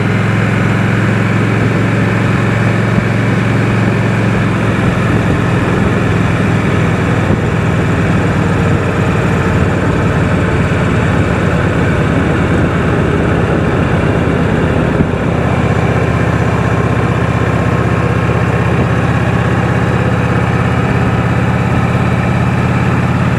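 A 1986 Liberty Harley-Davidson motorcycle engine runs while being ridden, a loud, steady low drone holding unbroken for over twenty seconds with no voices.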